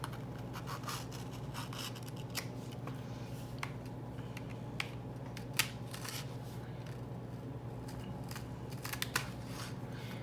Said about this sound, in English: this page does need to be cut down